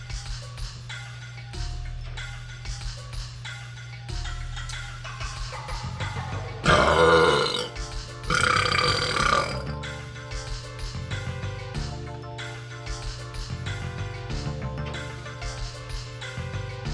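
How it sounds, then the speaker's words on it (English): Loud, drawn-out burps and grunting belches in a burping contest, with a couple of especially long, forceful eructations in the middle over a steady musical background. "you are here simply just for burps."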